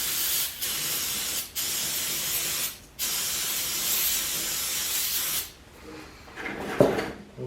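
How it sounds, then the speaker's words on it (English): Ether sprays from an aerosol can onto a hydraulic cylinder being rebuilt, sounding as several sharp, close hissing bursts separated by short pauses, with a softer rubbing hiss near the end. "So I'm going to go ahead and spray this down with some ether."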